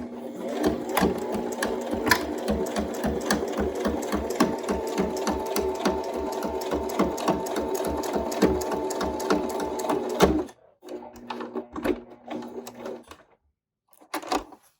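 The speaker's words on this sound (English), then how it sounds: "you want to sew as close as you can to the edge" A sewing machine stitches face mask fabric close to the edge, a fast steady mechanical rattle running for about ten seconds, then stopping and giving way to a few shorter bursts.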